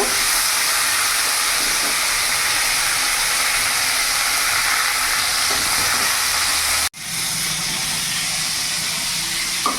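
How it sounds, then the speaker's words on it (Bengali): Steamed cauliflower florets fry in hot oil with a dense, even sizzle that runs loud and close, briefly cutting out near the end before resuming. "আমি ফুলকপিগুলো একটু লাল লাল করে ভেজে নেব।"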